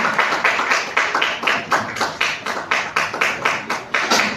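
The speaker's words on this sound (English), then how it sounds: "those who are clapping, please let's clap for him" Rhythmic clapping from a live audience at a financial leadership masterclass in a lecture hall, a steady series of sharp, evenly spaced bursts repeating roughly every quarter second without any talk over it.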